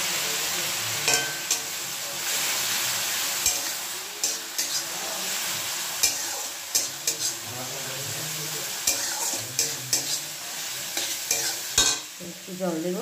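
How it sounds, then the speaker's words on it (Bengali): Onions for a Bengali chicken masala gravy fry in a pan, sizzling steadily while a spoon stirs and scrapes with repeated clacks against the metal. "পেঁয়াজটা যাতে পুড়ে না যায় ভেজে নিয়ে তারপরে একটু জল অ্যাড করে দিলাম"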